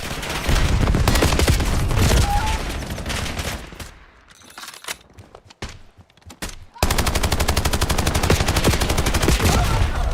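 Heavy automatic gunfire in a shooter video game: dense rapid shots roar loud and close, drop away to a quieter stretch with scattered single shots, then resume in a sustained fast barrage.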